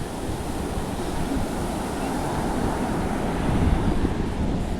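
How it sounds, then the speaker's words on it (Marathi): Ocean waves wash up a sandy beach on a rainy day, a constant loud roar of surf mixed with wind buffeting the microphone, swelling slightly near the end. "आली लाट बघा"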